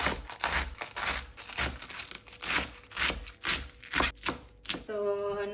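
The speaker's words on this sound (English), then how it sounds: "then I'm just gonna roughly chop it up" Spinach leaves roughly chopped with a knife on a board for a mushroom saag curry: a steady run of close, crisp blade strikes in an uneven rhythm, with a brief ringing clatter at the end.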